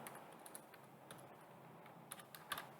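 Computer keyboard typing in short irregular bursts of clicks with pauses between, close and fairly quiet, no talk, while coding a Pygame Pong game.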